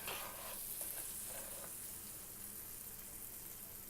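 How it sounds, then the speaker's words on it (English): Butter melting and sautéing in a pan over medium heat, a steady close sizzle and crackle with a few brief clinks early on, holding even throughout. "So we've got it on medium heat here and the butter is melting."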